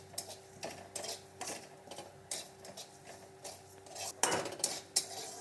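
Cumin seeds being fried and stirred in a pan for lau ghonto, with repeated metallic scrapes and clinks of a utensil against the pan in an irregular rhythm, close and moderately loud, with a faint sizzle beneath.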